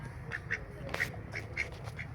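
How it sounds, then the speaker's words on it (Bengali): Domestic ducks penned in a rice-field setting give several short, nasal quacks, spaced irregularly and fairly close, over a steady low background hum. "এই 4টা হাঁসই এখানে রয়েছে দেখতে পাচ্ছেন"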